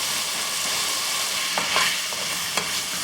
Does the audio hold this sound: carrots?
yes